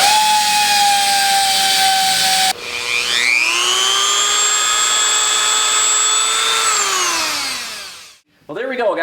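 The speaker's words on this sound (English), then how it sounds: "So let's proceed to grind on the other one." Die grinder porting CB Performance aluminum end castings, a loud continuous high whine that spins up, holds steady for several seconds, then winds down and cuts off, followed by a brief rough burst.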